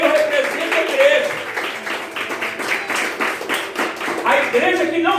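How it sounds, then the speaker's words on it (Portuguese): Church congregation clapping in praise during a sermon, dense rhythmic hand claps running continuously throughout, fairly loud and close, with voices mixed in beneath. "Você pode louvar o Senhor com as palmas?"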